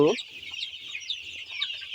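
A flock of 24-day-old chicks clucks and peeps steadily, with dense overlapping high chirps throughout at a constant, moderate level.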